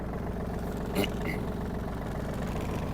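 A Yanmar RS-30 Japanese mini tractor engine runs steadily at idle throughout, a constant low mechanical drone with a brief clatter near the one-second mark.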